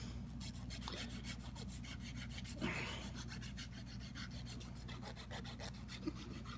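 A coarse Flex-i-File sands mold lines off a small part in quick, steady back-and-forth rasping strokes, close and soft with an even rhythm.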